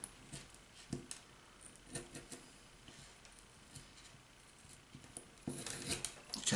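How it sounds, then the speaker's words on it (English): Scissors snipping the loose ends of paracord on a Jeep zipper pull, giving several soft, close crisp snips and rustles spread over a few seconds, with a louder run of rubbing and cutting noise at the end. "Take your scissors."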